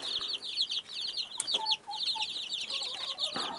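Hen and chicks cluck and peep almost continuously while eating watermelon, a dense, close chorus of high chirps with a few lower clucks mixed in.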